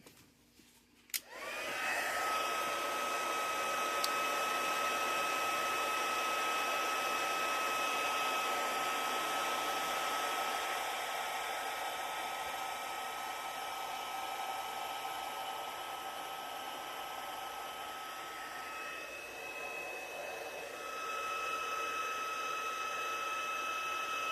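A heat embossing tool switches on and blows a steady, whining hot-air rush over white embossing powder on paper, running continuously and close for over twenty seconds with a slight change in pitch near the end, with no talking.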